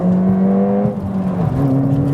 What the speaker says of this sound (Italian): Non è un rumore di marmitta, non è un rumore di aspirazione, è un rumore di camme